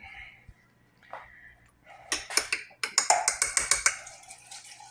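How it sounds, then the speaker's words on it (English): Water added to a pot of red soup base made from kitchen leftovers, with irregular splashing and dripping, then a quick run of clustered pours and drips at close range. "Add a little bit more water in there, just a tiny bit."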